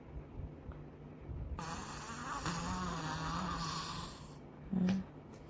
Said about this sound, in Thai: น้ำมูกออกมา แล้วพยายามหายใจ